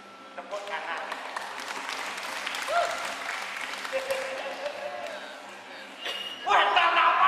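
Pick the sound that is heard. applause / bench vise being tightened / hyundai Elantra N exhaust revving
applause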